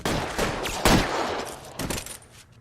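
Police shootout gunfire: a burst of several sharp, loud shots in close succession, one heavy blast near the middle, then another shot toward the end before fading.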